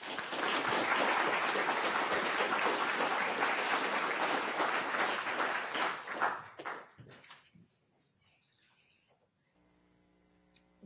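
Loud, dense audience applause greets a keynote speaker at a Spectrum Hall of Shame conference session. It holds steady for about six seconds, then thins out into a few scattered claps before the room falls quiet.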